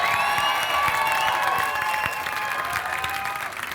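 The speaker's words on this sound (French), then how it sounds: "On va donner une bonne main d'applaudissement pour ce début de match." Lively audience applause at the opening of an improv match, a dense wash of clapping mixed with cheering and whistles that tapers slightly toward the end.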